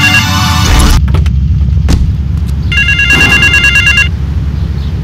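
A payphone rings in the video game GTA 3, loud electronic trilling bursts over a constant low rumble of traffic, with a heavy thump partway through.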